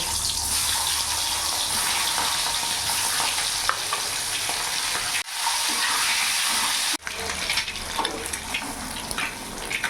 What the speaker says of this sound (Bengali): তেল গরম হয়ে গেছে, এবার ডিমগুলো আমি ভেজে নেব।